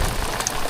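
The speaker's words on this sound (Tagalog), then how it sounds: "Yun, ulan na naman mga amigo." Rain falls during a fishing outing for tamban fish, a close, continuous wash of noise with a low rumble underneath and no talking.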